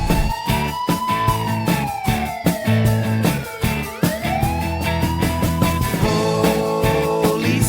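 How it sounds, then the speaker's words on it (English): A wailing police car siren sweeps up and down over a bouncy children's music track with a steady beat. "their sirens are so loud"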